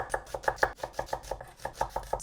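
A knife thinly slicing two onions on a cutting board, steady rhythmic chops about five per second, close and crisp with no talking.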